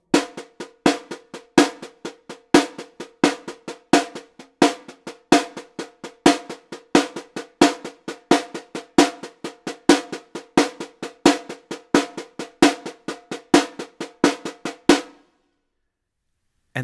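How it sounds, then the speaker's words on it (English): Caixa snare drum plays a Mocidade samba pattern based on the bossa nova clave at a slow, steady tempo, sharp close accented strokes repeating evenly for about fifteen seconds before stopping. "If you play this on the caixa in a slow tempo, it sounds like this"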